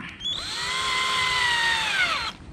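Power drill driving a screw into a softwood chicken coop panel, one loud whine that rises in pitch and holds for about two seconds before stopping abruptly.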